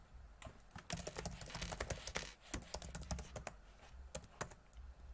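Rapid typing on a computer keyboard, close and fairly loud, with irregular bursts of key clicks and short pauses throughout.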